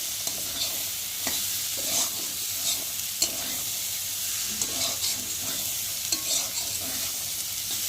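Boiled peas and chickpeas being stirred with spices in a pan for ghugni, a steady sizzle with repeated scraping strokes of a spoon at an even rhythm, close up and moderately quiet, with no talking.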